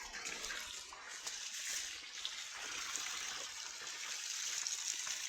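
Natural water flows steadily at a hillside temple, a soft, even rush with light splashing that carries on without a break and without any voices.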